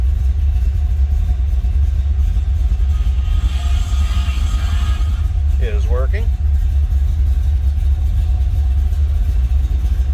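A 1972 Chevrolet Chevelle with a cammed 350 V8 idles loudly and steadily up close, its low, lumpy drone continuing throughout; a brief voice is heard in the middle.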